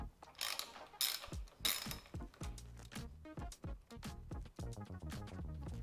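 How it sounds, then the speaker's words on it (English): A ratchet socket wrench clicks quietly and steadily in short, uneven strokes while loosening a 10mm nut on a motorcycle handguard, close by and with no talking. "Then we'll remove the nut on the bottom also with a 10mm socket."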